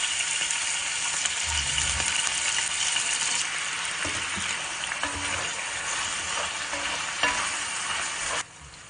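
Chunks of meat fry for kavurma, sizzling steadily and loudly in a pan while being stirred, with occasional scraping and clinking of the utensil against the pan and no voices.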